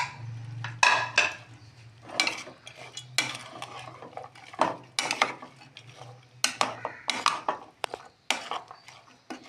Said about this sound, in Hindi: अब इसको हम खूब मिक्स करेंगे, थोड़ी देर के लिए इसको पकने देंगे